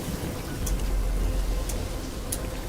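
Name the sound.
rain in gutters in the video game Starfield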